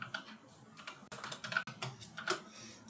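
Computer keyboard typing while writing Python code, a scattering of quiet, irregular key clicks at close range with no talking.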